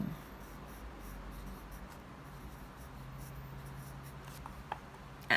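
Handwriting with a pen or pencil on paper, a steady faint scratching and rubbing that runs continuously for several seconds in a quiet room, as Thai words are written out during a language lesson.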